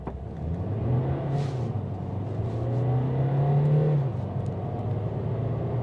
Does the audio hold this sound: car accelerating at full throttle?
yes